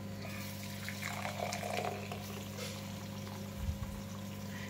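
Amla gooseberries drop one at a time into very hot oil for pickle, giving a soft steady sizzle with a couple of brief louder spits over a constant background hum.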